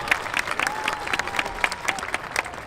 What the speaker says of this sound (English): Give another round of applause for your top students of